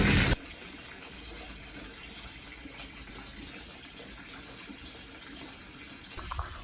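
Water gushes steadily into a Canadian Spa Grand Rapids hot tub through a filter, a constant close rushing flow between brief louder bursts at the start and end.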